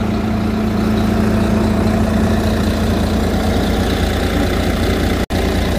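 Engine idling heard up close, a steady low rumble with a constant hum that runs unbroken, interrupted only by a brief dropout near the end.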